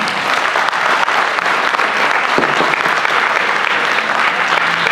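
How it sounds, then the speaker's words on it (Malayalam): An audience applauding at an inauguration ceremony, dense sustained clapping from a crowd, loud and even throughout with no break or speech. "നന്നായിട്ടൊന്ന് കൈയടിക്കാം"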